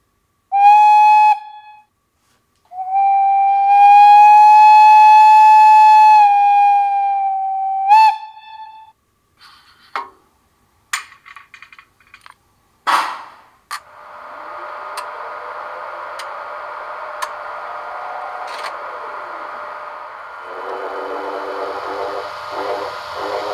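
A PIKO H0 scale BR 191 electric locomotive model plays its recorded horn: two loud sustained two-tone blasts, the second longer, followed by clicks, clunks and a rising hiss of running sounds with a faint squeal.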